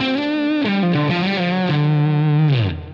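Electric guitar through a Line 6 Helix LA Studio Comp and a Friedman amp model, a loud overdriven phrase of sustained sliding notes that bends downward and fades out at the end.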